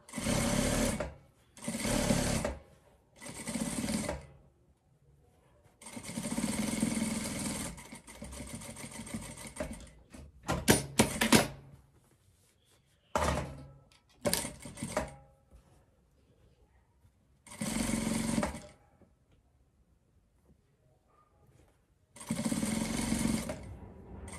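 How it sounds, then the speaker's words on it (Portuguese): A sewing machine stitches along the edge of a blanket's hood in several loud close bursts of rapid mechanical whirring, separated by short pauses of near silence. "agora aqui também eu vou passar uma costura bem na beiradinha, só pra gente prender mesmo"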